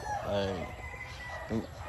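On a chicken farm where many birds are moulting, a rooster gives a drawn-out crow, followed a second later by a shorter call, both fairly faint over a low, steady background.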